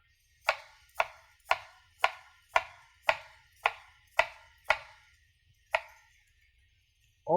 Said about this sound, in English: Since we cut the onion, might as well use the other half.